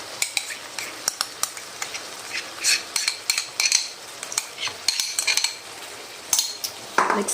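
Cream and yogurt being stirred into chicken karahi for a white karahi, heard as close, irregular scraping and clinking of a spoon against the pot over a soft sizzle, with no talk.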